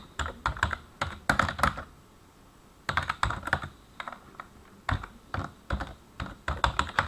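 Text typed on a computer keyboard while filling spreadsheet cells, with close, crisp key clicks in quick irregular bursts separated by short pauses, and no talking.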